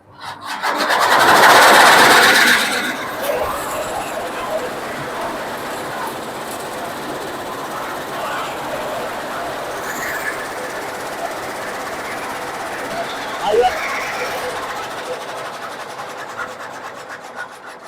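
A kadba kutti fodder chopping machine runs continuously with a loud rasping, churning roar that swells at the start and then holds steady, with faint voices in the background.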